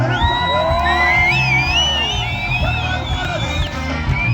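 A large crusade crowd at an outdoor worship gathering shouts, whoops and ululates continuously, a loud and dense wall of voices with high trilling cries weaving over the roar.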